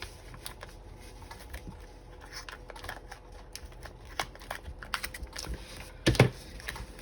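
Paper is trimmed for an art journal, producing a string of light, close clicks and crisp snips that build into a sharper burst of cutting near the end, with no talking.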